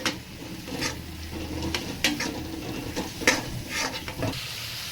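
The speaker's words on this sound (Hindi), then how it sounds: "और अब मैं डालूंगी एक ये बारीक कटा हुआ टमाटर जो मैंने काट के अभी तैयार किया है।" Finely chopped tomato goes into a spice paste frying in a pan. The sizzle is steady, broken by stirring scrapes and clinks from the utensil at irregular moments, and no voices are heard.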